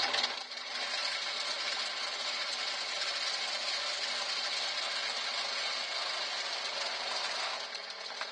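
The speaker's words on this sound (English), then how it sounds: "This lathe is sounding really manky." A woodturning lathe in rough, worn condition spins an olive ash bowl blank, producing a loud, steady, gritty whir that runs unbroken for the whole stretch with no speech.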